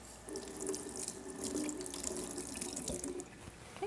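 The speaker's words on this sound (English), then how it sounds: "At this point, I'm going to go ahead and rinse this off." Tap water runs steadily into a kitchen sink as an item is rinsed under it. The splashing stays close and continuous, with small drips and clatters and no talking.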